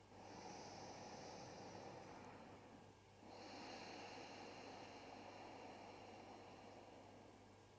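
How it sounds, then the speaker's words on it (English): Slow, steady breathing in and out during a gentle adaptive yoga class: a long soft airy inhale, a brief pause, then a long exhale, quiet and close over a low steady hum. "Breath in. Breath out."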